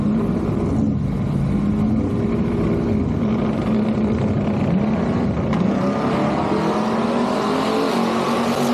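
A Ford F100 pickup and a Chevrolet Nova wagon drag race, their engines roaring loud and steady throughout, with a sustained high-powered drone that rises slightly in pitch toward the end.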